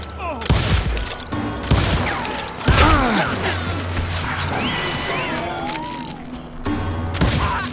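Gunfire in the Western shooter game Call of Juarez: Gunslinger: loud, close volleys of shots and booming impacts crash out in bursts, with crashing and shattering debris and brief voices between them.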